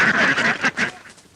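Ducks quack loudly and nearby in a short, raspy burst of three or four calls that tail off into quieter background noise.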